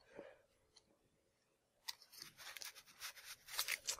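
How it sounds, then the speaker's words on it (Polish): Scissors cut through packaging tape on a freshly delivered package: a quiet start, then close, faint, scratchy snipping and rustling that grows busier toward the end. "Ach, nożyczki."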